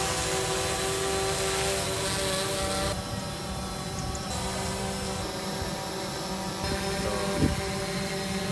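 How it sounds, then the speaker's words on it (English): An agricultural drone flies during a training session, its steady whining rotor drone loud and continuous throughout, with a faint broadband hiss and no talk. "Our Indian colleagues in Erie are now flying the drone."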